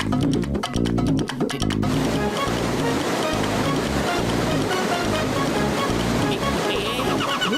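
Water gushes hard and continuously from a burst pipe in a cartoon, a loud broadband rushing roar that follows a short burst of sharp rapid clatter at the start and holds steady to the end.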